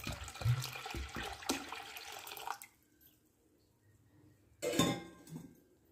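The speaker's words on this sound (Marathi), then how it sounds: "आता यात आपल्याला पाणी टाकून एक 5 तास भिजू द्यायची आहे" Water pours onto lentils that have been washed several times, setting them to soak: a splashing, gurgling pour for about two seconds, a quiet pause, then a short second splash.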